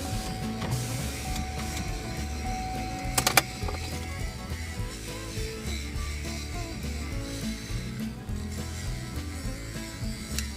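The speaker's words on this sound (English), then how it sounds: "Let's roll the windows down." Car power windows rolling down with a steady mechanical motor whir and rubbing hum that runs throughout, with a brief sharper click or thump partway through.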